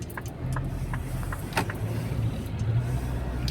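A truck creeps slowly past on a road at night, its low engine rumble steady and fairly loud nearby, with a few faint knocks and clatters on top and no voices.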